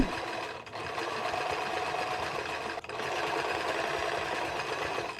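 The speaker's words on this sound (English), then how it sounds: "I'm going to edge stitch it so that the stitch is on the outside." A sewing machine hums continuously while edge stitching a cargo pocket, with two brief dips where the stitching pauses before running on steadily.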